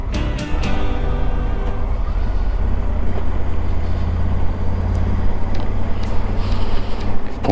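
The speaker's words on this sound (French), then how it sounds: "on entend aussi un petit peu le bruit du moteur" A motorcycle engine drones continuously while riding, caught by a GoPro camera with the helmet visor open, loud and close, with heavy rushing wind noise and a few brief knocks.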